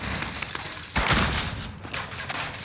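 Sustained gunfire in Call of Duty: Rebirth, a dense rapid fusillade of shots with one heavier burst near the middle, loud and continuous throughout the short stretch with no talk over it.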